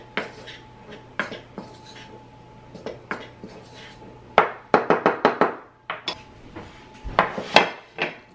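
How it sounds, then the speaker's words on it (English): A spoon clinks and scrapes against a bowl while smoked paprika and salt are stirred together, a run of quick close metallic taps and knocks, loudest in a dense burst midway, with a steady low hum underneath. "And then I'm just gonna stir that up real quick."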